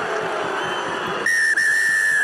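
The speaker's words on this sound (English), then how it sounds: "The full-time whistle sounds." A rugby referee's full-time whistle at a Champions Cup match between RC Toulon and Glasgow Warriors blows one sharp, sustained shrill blast with a brief dip, loud over crowd noise.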